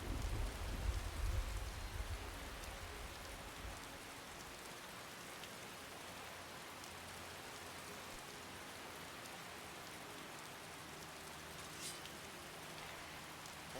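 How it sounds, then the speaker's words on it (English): Steady rain falls across an open landscape in Skyrim, a dense, even wash of patter that holds constant throughout, louder for the first few seconds and then settling into a continuous, moderate downpour with no voices. "This rain is ridiculous."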